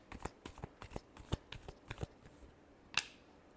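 Tarot cards are riffled and shuffled in a run of quick, crisp snaps, about a dozen, close to the listener, ending with a sharper final slap of the deck.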